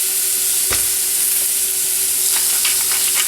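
Mushrooms pan-roasting in a hot pan, seasoned with Himalayan pink salt, give a steady broadband sizzle with a sharp click near the start and a few brief crackles later, with no talking.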